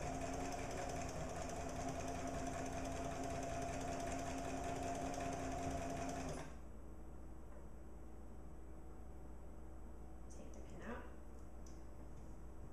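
A sewing machine stitches fabric half an inch from the edge at a slow to medium pace, a steady close mechanical whir that runs for about six seconds and then stops.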